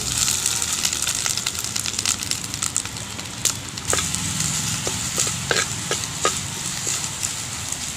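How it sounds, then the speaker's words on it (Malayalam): Mustard seeds crackling and popping in hot coconut oil in a pan for a village-style koottu curry, a steady dense sizzle with scattered sharp pops throughout, close and moderately loud. "വേറെ ചട്ടിയിൽ വെളിച്ചെണ്ണ വയ്ക്കുകയാണ് കടുക് ഇടുകയാണ്"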